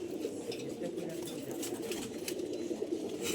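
Racing pigeons from a competition loft coo softly and continuously in the background, a steady low flock murmur with a voice speaking over it.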